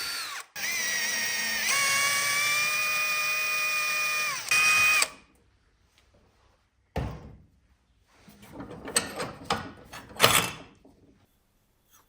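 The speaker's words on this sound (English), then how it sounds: "We'll mark another hole, which we'll drill and thread to a size 8 thread." A power drill bores a hole in a metal bio stove, whining loudly and steadily for several seconds with pitch shifts before stopping, followed by scattered metallic clunks and knocks.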